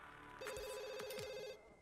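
A telephone rings in The Sims 2, a quiet electronic bell trilling steadily for about a second before stopping.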